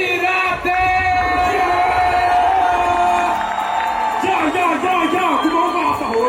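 A large concert crowd in Burundi cheers and whoops loudly to welcome a singer, a dense, continuous roar with shouts rising out of it while someone talks over the noise.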